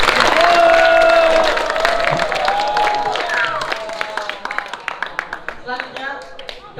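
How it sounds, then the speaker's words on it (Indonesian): An audience at a school language ambassador contest applauds loudly, dense clapping that swells at first and then thins into scattered individual claps, with a voice speaking over the start. "Beri tepuk tangan sekali lagi."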